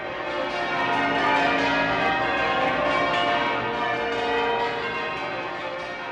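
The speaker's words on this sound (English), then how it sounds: "The wonderful sound of bell ringing." Church bells peal continuously in a rich, layered ring, loud and steady with overlapping chimes and no voices.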